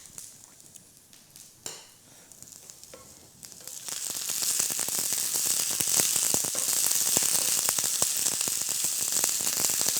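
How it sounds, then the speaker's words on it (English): Chicken with toasted coconut for coconut curry tacos sizzles in a hot pan: a quiet start with a few clinks, then a loud, steady crackling fry with dense popping, close by and without talk. "Sounds like fajita sizzling."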